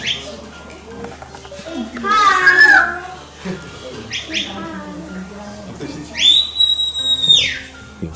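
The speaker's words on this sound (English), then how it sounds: "I am going to tell her walk up now with two short blasts on whistle." A sheepdog handler's whistle at Walter Peak Farm, Queenstown, sounds two shrill blasts, a shorter warbling one early and a longer steady one later, near and loud among people talking.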